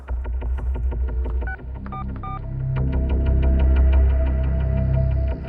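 A phone is dialed in a Hindi crime drama scene, with a run of short touch-tone beeps followed by a low humming throb of the line connecting, loud and close with no speech.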